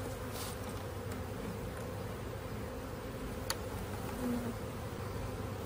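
A swarm of honeybees hums steadily at a hive entrance, a dense, continuous buzz of many wings heard close up and without pause, with occasional louder passes as individual bees fly near.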